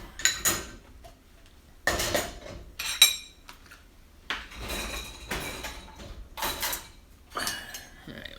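Dishes and cutlery clatter as a dishwasher is loaded at home, irregular bursts of clinking porcelain and metal close by, separated by short pauses.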